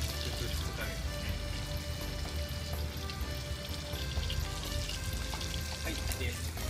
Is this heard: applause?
no